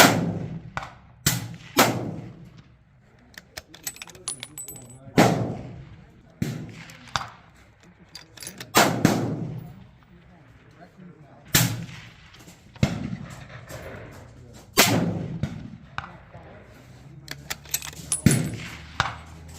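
Rifle shots from a rifle with a 1-in-10 twist barrel and Boyd's stock, fired at 12-inch steel square targets from 200 yards outward; sharp reports recur every couple of seconds with long decaying tails, nearby and loud, with talk between some shots.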